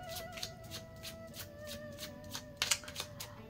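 Tarot cards being shuffled in the hands in a quiet room, a steady run of soft riffling flicks with a sharper burst near the end, close and fairly faint.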